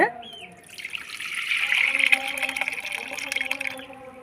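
Soaked black urad dal is pressed and rubbed by hand in a bowl of water to loosen the skins, giving close, continuous sloshing and trickling water sounds with a voice faintly underneath.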